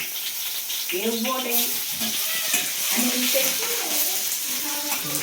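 Onions sizzle steadily in a hot pan for spicy street-style Maggi noodles, a constant bright frying hiss with occasional stirring, while people talk loudly over it throughout.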